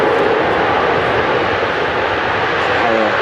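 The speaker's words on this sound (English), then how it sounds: "Harrier gets airborne." A Spanish Navy Harrier jet roars loudly and steadily as it takes off on a short roll at an air show, a broad, unbroken engine rush with a faint tonal whine underneath.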